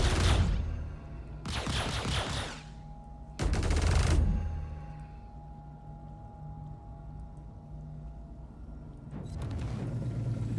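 Bursts of video game gunfire, three loud rapid volleys in the first few seconds and another near the end, separated by a low steady rumble and hum.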